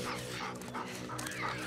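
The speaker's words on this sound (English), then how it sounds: "Good dog." Dog in The Last of Us Part 2 whimpering and yipping up close, a steady run of canine whines and small barks with game ambience and no talk.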